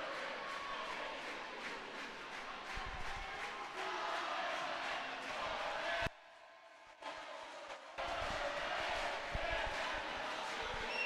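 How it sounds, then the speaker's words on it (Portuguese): Corinthians supporters sing and cheer in a packed futsal gym during an under-8 final against Palmeiras, a steady loud crowd roar that cuts out briefly and then returns just as full. "E faz a festa ali a equipe, a torcida do Corinthians. Cantando, vibrando"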